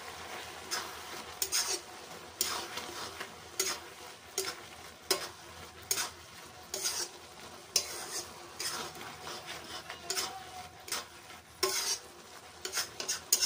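Carrot halwa with chopped cashews, almonds and pistachios stirred in a pot, giving repeated short scraping strokes with a soft sizzle, close but quiet.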